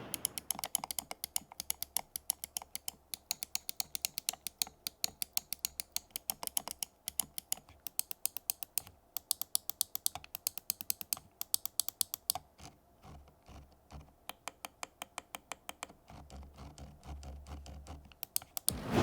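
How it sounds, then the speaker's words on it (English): Asus ROG Harpe Ace Extreme gaming mouse with a carbon fiber shell clicked repeatedly up close, sharp crisp clicks in fast irregular bursts and rapid runs with short pauses, alone and fairly quiet. "Let's drop a sound test of the Harp Ace Extreme and see what this new carbon fiber shell can do."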